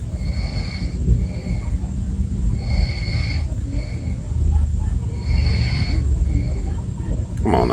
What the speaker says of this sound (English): that girl in that car snoring, you hear that?